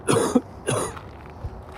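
A person coughing heavily outdoors, two harsh, close coughs in quick succession followed by a faint breath.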